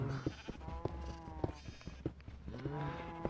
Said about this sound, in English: There's too many sheep now.